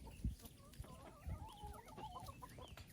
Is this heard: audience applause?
no